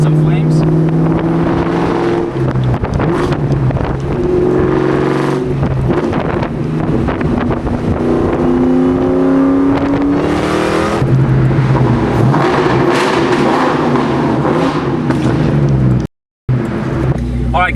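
A Ford Mustang engine runs loud and close at full operating temperature, revving and settling in rising and falling tones with wind buffeting the microphone and someone talking over it, then a brief cut to silence near the end.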